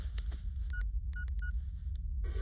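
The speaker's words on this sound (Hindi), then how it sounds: "अभी फोन लगाता हूँ।" A telephone number is dialed as a short sequence of separate beeping key tones, clear and close over a low background hum, with a burst of noise at the end.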